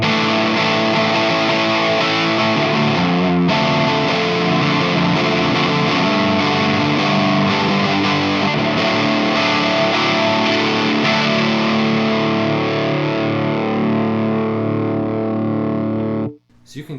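A Kruz Pedals dub distortion pedal drives an electric guitar into a thick, saturated tone, sustained chords ringing loud and dense for about sixteen seconds, with a brief shift partway through before the sound cuts off abruptly.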